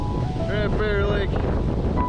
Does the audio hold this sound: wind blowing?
yes